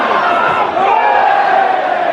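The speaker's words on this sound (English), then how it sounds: "the fans packed into that corner are happy with what they're seeing" Football fans in the stands chant and cheer at close range, a loud, dense, sustained roar of many voices with a rising chant running through it.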